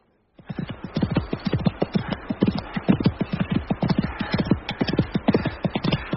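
Horse hooves clip-clop in a steady, brisk rhythm from a radio crime drama, a dense run of sharp, close knocks starting after a brief silence and continuing throughout, with no talking.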